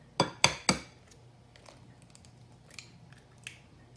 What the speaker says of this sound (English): This is our old egg. When we crack it open